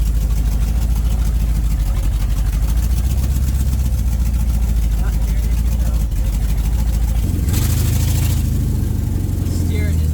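A 1972 Dodge Dart drives along a rutted road, its engine a loud, steady low drone that surges briefly near the end, with a voice talking over it.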